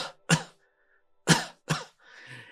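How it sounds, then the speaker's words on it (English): A person gives several sharp coughs to demonstrate coughing, with three or four abrupt bursts separated by short silences and a breathy trailing sound at the end. "imagine when you cough, it goes like this"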